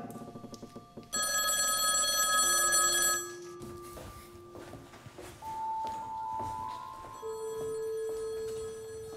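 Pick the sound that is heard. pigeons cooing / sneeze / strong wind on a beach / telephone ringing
telephone ringing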